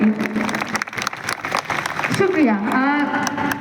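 An audience at a birthday recital of revolutionary Hindi songs claps in a sustained burst, with a performer's voice speaking and singing over the applause.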